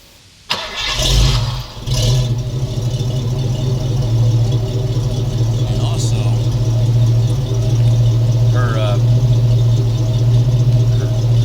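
Car engine with a new exhaust cranks and catches, with a brief surge, then settles into a loud, steady idle rumble close by, with faint voices briefly in the background.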